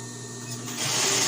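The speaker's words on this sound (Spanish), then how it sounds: "Y cosemos y nuevamente le damos dos o tres cosidas más para que agarre más fuerza" A sewing machine stitches a fabric face mask with elastic, its motor whirring steadily before rising to a louder, denser hum partway through the short burst.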